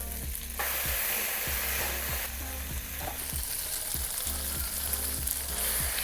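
Steady, loud sizzling of noodles frying in a hot pan with crab cooking liquid, with a rhythmic scraping and stirring clatter repeating throughout.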